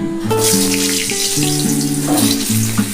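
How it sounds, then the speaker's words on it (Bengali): Potatoes frying in hot mustard oil in a wok, a loud continuous sizzle with steady crackle, heard over sustained tonal background music and no speech. "আমি একটু আলু দিচ্ছি আলুটা আগে ভেজে তুলে নিচ্ছি"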